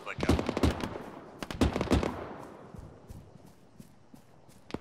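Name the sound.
distant machine gun fire in a video game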